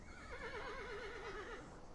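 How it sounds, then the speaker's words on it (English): A horse gives one long, wavering whinny lasting over a second, close and clear above a steady outdoor background hiss. "I guess this horse distracted me"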